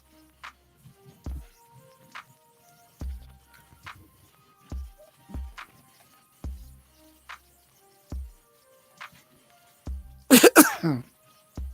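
One sharp, loud sneeze bursts out near the end, after a series of soft, scattered knocks and thumps in an otherwise quiet room.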